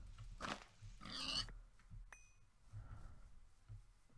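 A pig in the Minecraft video game gives a couple of short, close oinking grunts over a quiet low background hum, with no talking.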